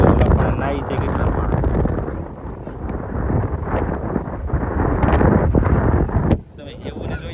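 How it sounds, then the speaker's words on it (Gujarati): Strong wind at a seashore buffets the microphone with a loud, continuous roaring rumble that surges and eases, briefly dropping off near the end. "કારણ કે નકરો પવન જ એટલો આવે છે."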